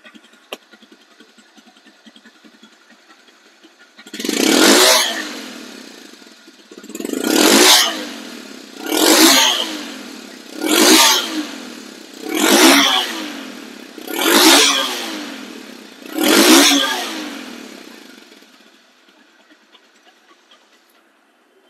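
A Bajaj Discover 135cc motorcycle idles quietly, then revs seven times in a steady rhythm, each rev rising and falling back to idle, heard up close with no talking.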